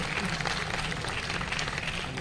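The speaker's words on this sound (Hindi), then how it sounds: "जोरदार तालियां मेघा सिंह मैडम के लिए।" Hall audience at an official prize distribution ceremony applauds a third-prize winner, a soft, continuous wash of many hands clapping, fairly faint and evenly spread.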